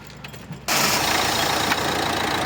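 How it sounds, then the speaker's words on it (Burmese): A Mazda Bongo light truck's engine catches after a brief quiet moment and jumps straight into a loud, steady idle that rumbles close by until the end. "ကဲကျွန်တော်အင်ဂျင်ငန်းလေးတစ်ချက်ဖွင့်ပြပေးပါမယ်"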